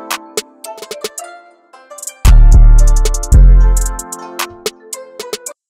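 A hip-hop beat made in FL Studio plays a verse section: a plucky melodic loop with crisp percussive hits, broken by two long, booming 808 bass notes that swell loud and decay before the lighter pattern resumes.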